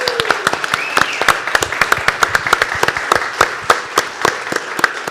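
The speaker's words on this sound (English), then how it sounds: "another round of applause to the author, Whit Fraser, everyone." An audience at a book launch claps for the author, a dense run of sharp, close handclaps that keeps an even, lively rhythm throughout.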